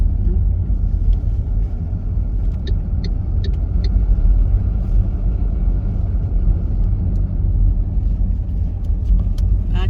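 Cars pass along a road between Fredrikstad and Sarpsborg in southern Norway, a loud, continuous low rumble of engines and tires with a few faint clicks, heard from inside or beside moving traffic.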